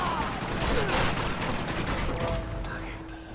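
Heavy gunfire from a large mounted gun in a chaotic battle in Uncharted 2, a dense rattling barrage sustained throughout with faint background talk.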